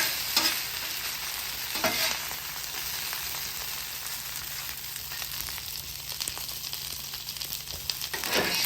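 Noodles toast and fry with ground beef in a hot pan or griddle, giving a continuous soft sizzle. A few scraping stirs come through, and no one speaks.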